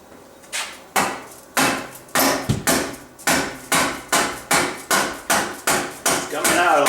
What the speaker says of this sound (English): I'm going to press out